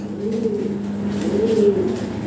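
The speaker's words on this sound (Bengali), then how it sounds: "খুবই চমৎকার এক পেয়ার কবুতর" A large pair of domestic pigeons coo nearby in two soft, rolling phrases, with a faint background hum and no speech.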